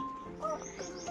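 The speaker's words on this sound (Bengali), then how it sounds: "বাবা ইয়ে ডাকছে, কোকিল ডাকছে" An Asian koel calls with short, faint tonal chirps over quiet background noise, heard from some distance in a brief burst.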